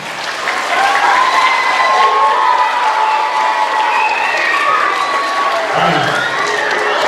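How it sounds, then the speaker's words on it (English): A middle school assembly audience applauds and cheers, loud, sustained clapping with excited shouts and whoops from many students throughout. "Give yourself a round of applause."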